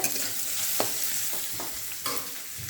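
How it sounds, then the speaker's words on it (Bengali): Potatoes and onions frying in a pan, a steady sizzle with several distinct scraping stirs of a spatula against the pan, close and without talk. "তারপরে এই সব কিছুকে খুব ভালো মতো নেড়ে ফেড়ে নিয়ে আলু এইরকম সামান্য নরম হলে"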